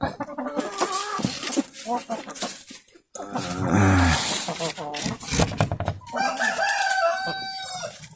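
Native chickens clucking and crowing while feeding on betel leaves, several close bird calls in bursts with a person talking over them at times.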